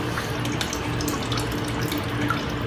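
Steady, close rushing and swirling of water circulating as a vortex in a blue bowl gold concentrator used to recover fine gold from black sands, continuous with no pauses.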